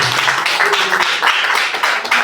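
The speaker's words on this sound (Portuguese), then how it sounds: "Palmas para Jesus." A church congregation clapping for Jesus during a service: a dense run of many hands beating in quick, uneven bursts, loud and close, with no speaking over it.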